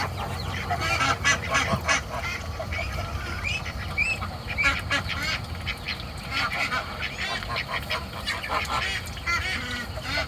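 A crowd of ducks quacks continuously nearby, honking and calling over one another in a dense, noisy chorus.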